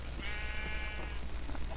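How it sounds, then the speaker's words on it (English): A sheep in the Minecraft video game gives a single drawn-out bleat, quiet and clear against faint background hiss. "I never knew sheep only had 8 health."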